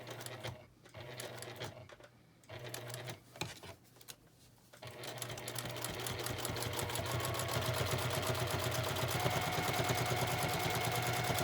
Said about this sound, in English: I'm going to stitch all the way around to close up all the open sides.